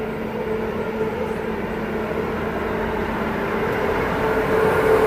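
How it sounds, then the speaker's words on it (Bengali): The 12311 Netaji Express, fitted with new LHB coaches, pulls out of Dhanbad station with a loud, steady rolling rumble that swells slightly toward the end, heard up close with no talking. "এখন ট্রেনটি ধানবাদ থেকে বেরিয়ে যাচ্ছে নেতাজি এক্সপ্রেস"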